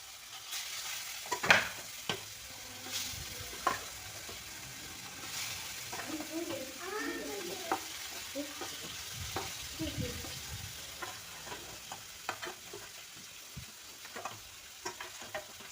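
Fish frying in a pan gives off a close, continuous crackling sizzle with scattered sharper pops and spits throughout.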